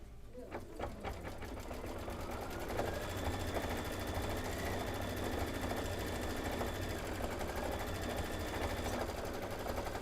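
Embroidery machine stitching a quilting design, a continuous fast rhythmic mechanical chatter with a steady pulse throughout, close and moderately loud.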